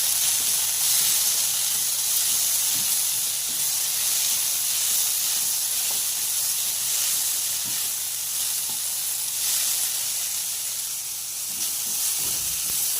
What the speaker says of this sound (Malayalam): തക്കാളി ഇട്ട് വഴറ്റിയതിന് ശേഷം നമ്മളതിലേക്ക് ഒരു പിടി കറിവേപ്പില കൂടെ ആഡ് ചെയ്യുകയാണ്